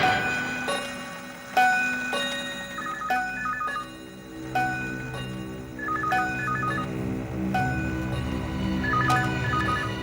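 Old landline telephone ringing in a house in repeated bursts with a steady ticking clock and music underneath, loud and close, no talking.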